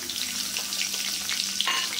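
Dried red chilli and cumin sizzle steadily in hot frying oil for a Bengali bhetki fish curry with potatoes, a close, continuous crackle without pauses.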